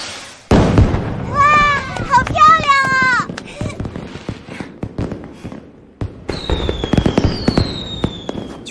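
Fireworks go off at a New Year celebration: a loud opening burst, rising whistles, then a string of crackling pops and bangs at close range.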